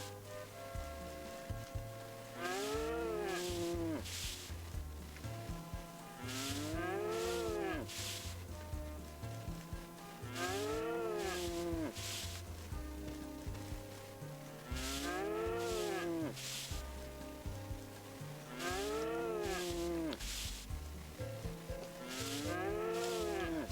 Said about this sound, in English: I hope you like cow noises because you're going to hear them quite a bit.